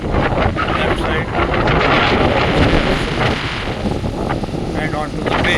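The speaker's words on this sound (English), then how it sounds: "Strong wind is blowing across, giving a very pleasant tinge to the entire atmosphere of the bay" Strong wind blows across the bay at Wai'anapanapa black sand beach on Maui, a loud continuous rushing buffet against the microphone with a voice talking over it.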